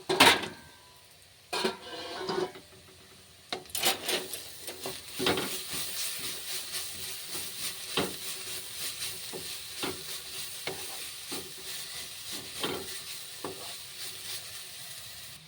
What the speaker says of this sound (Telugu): కాకరకాయ ముక్కలు అందులో వేసి ఫ్రై చేసుకుంటే బాగుంటుంది